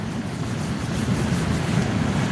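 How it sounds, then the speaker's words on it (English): Rough, raging sea surf at a sea-fishing spot, heard as a steady, loud low roar of churning waves mixed with wind rushing across the microphone, continuous and unbroken throughout. "It's raging, the sea."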